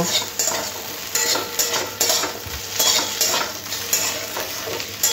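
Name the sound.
stirring ground peanuts into fried okra and potatoes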